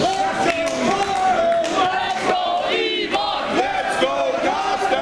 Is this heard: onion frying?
no